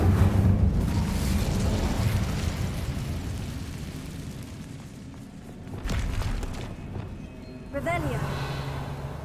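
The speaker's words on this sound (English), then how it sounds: "Incendio!" Incendio fire spell cast in Hogwarts Legacy, a loud whooshing blast of flame with rumbling bursts that swell and fade over several seconds, game speech mixed in.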